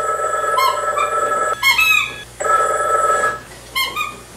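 A telephone rings in a movie scene, loud trilling bursts repeating with brief gaps, one ring stopping as another begins, over a steady hum.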